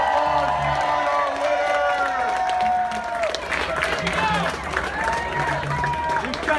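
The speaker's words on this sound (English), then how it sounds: "Big round of applause for our" Crowd at a Feast of St. Anthony sausage eating contest breaks into clapping, cheers and whoops for the winner, lively and close, mixed with voices and someone talking over a loudspeaker.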